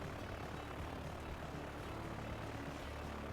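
Airplane droning steadily in the Transport Fever video game, a constant low engine hum at moderate distance with no other sounds over it.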